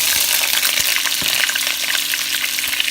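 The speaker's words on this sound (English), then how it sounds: "now we're just going to saute the vegetables" Vegetables sauté in a pot for smothered turkey wings, a loud, dense, continuous sizzle and crackle with faint stirring knocks underneath.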